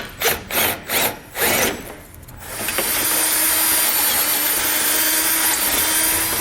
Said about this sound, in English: we'll drill out the remaining 3 holes on each side of our base plate.